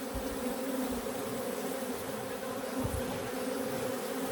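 Honey bees buzzing at a hive, a dense, steady drone of many insects close by that holds at an even level throughout.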